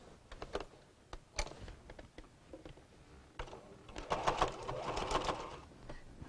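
A sewing machine stitches down the binding on the edge of a quilt, starting with scattered clicks and short taps, then running in a denser stitching burst near the end, close and with no talking.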